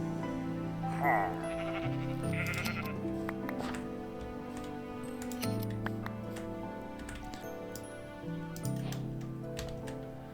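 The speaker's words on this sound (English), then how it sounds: "I do see a sheep over there" A sheep in the Minecraft video game bleats several times, close and clear, over a steady bed of in-game background music, with a few short clicks scattered through.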